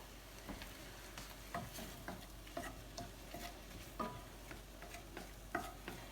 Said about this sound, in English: It only takes a few seconds or like 30 seconds to a minute to saute these